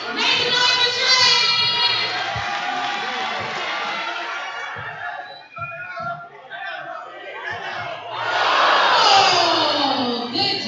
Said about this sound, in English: We got a cheer for you, Trey.